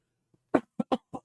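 Four short, sharp coughs in quick succession, close by, with brief gaps between them in an otherwise quiet setting.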